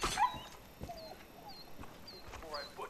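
A dog in the video game Far Cry New Dawn whimpers in soft, high, brief whines that recur across a few seconds, fairly faint under game ambience and footstep-like thuds.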